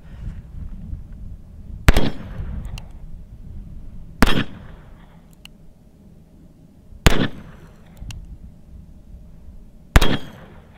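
A Smith and Wesson No 1 revolver fires .22 Short rounds outdoors. Four sharp, loud reports come a few seconds apart, and each one rings out briefly.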